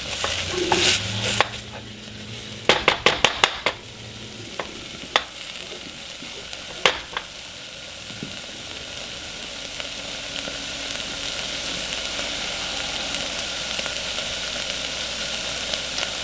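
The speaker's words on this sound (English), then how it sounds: "On stirring, I'm using the spatula." A spatula scrapes and clatters against a pan while cheddar ale soup cooks, with a burst of quick knocks early on and then a steady low simmering hiss running under occasional light taps.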